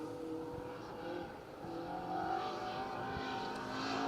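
A rally car on a special stage of the Roger Albert Clark Rally 2023 approaches with a steady engine drone that swells gradually, heard from a distance and without talk.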